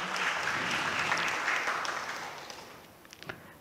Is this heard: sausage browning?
no